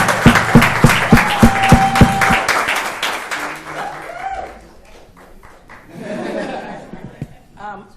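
Audience applause breaks out at a county board of commissioners meeting, a burst of sharp claps and cheers that fades after a few seconds into scattered voices and murmurs.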